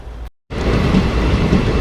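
A train running at Boudh railway station gives a loud, steady broadband rumble that cuts out briefly near the start, then continues at full level with no voices.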